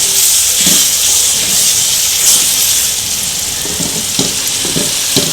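Spice paste for mutton curry frying in oil, a loud, steady sizzling hiss close by, punctuated by a few soft stirring knocks.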